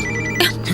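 A mobile phone ringtone chimes steadily in a horror movie scene at night, bright electronic tones sounding close and loud without anyone speaking.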